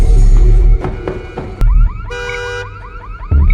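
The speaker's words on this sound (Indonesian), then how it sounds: "saat Murphy sedang seleketep dengan Clara, tiba-tiba alarm mobilnya berbunyi." A car alarm blares loudly in a film scene, cycling through several distinct electronic tones (warbling whoops, rapid chirps and a steady pulsing beep) with heavy low rumble underneath, no talking.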